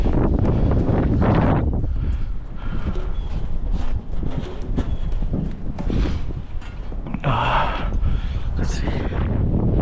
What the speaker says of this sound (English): Don't like this wind at all.